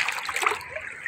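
Seawater splashing and sloshing around walking feet in the shallows at Masasa Beach, a steady close wash of churning water with no pauses over a moment.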